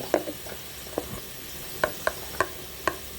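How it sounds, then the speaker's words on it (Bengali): Spices and turmeric frying in a pan for a midday Bengali meal, with a steady sizzle under sharp, regularly spaced scrapes of a spoon stirring against the pan. "এটুকু এখন আমি কষিয়ে নেবো এখানে হলুদ দিয়ে দিচ্ছি"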